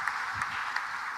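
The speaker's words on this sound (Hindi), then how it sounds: "एक बार ताली बजाओ ये दोनों डॉक्टर मलिक परिवार के लिए" An audience at a government event in Bhopal applauds two doctors for the Malik family. The clapping is dense, steady and moderately distant, with no distinct individual claps.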